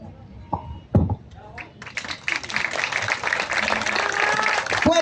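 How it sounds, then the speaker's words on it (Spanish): An audience at the first Festival Nacional de Historietas tribute ceremony breaks into sustained, dense applause that builds and holds steady, with a few voices and knocks near the start. "Fuertes los aplausos."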